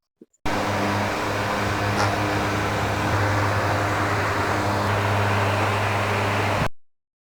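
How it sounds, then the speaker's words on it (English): An orbital sander runs continuously with 800-grit paper, smoothing a plastic car headlight lens, a steady loud whirring drone with a low hum that lasts several seconds before cutting off. "He's going to sand that smooth with his orbital sander."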